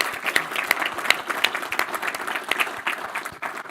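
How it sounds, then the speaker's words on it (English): A conference audience at a closing summit panel breaks into sustained applause, many hands clapping densely and evenly with no voices above it. "So big round of applause for the whole team."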